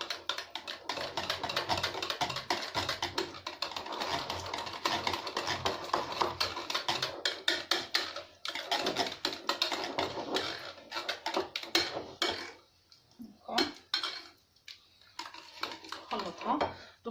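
A small spoon mixing margarine in a bowl while making an apple tart with pastry cream: quick, uneven clicking and scraping taps against the bowl, steady at first, then sparser, close and fairly quiet.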